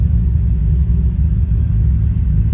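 A car engine rumbles low and steady from inside the cabin while the vehicle drives around the block after its cam and crank sensor was repaired, with a continuous drone and no speech.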